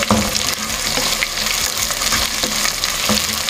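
Chopped onions sizzle and fry in hot oil for a curry pakora tarka, a steady close crackling hiss broken by a few stirring clicks, with no talking.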